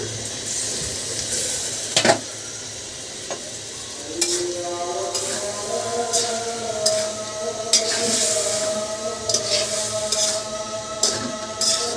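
Bitter gourd and shrimp stir-frying in a pan, a steady close sizzle broken by repeated scraping stirs and occasional clinks of a utensil against the pan, with no talking.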